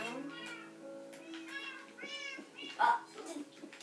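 A striped tabby cat in the Minecraft video game gives a few meows, the loudest near the end, mixed in with children talking and game sounds.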